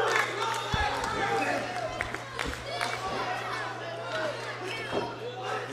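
A wrestling crowd at a live event roars and cheers steadily throughout, a dense wash of many voices with scattered shouts and claps, while a commentator talks over it.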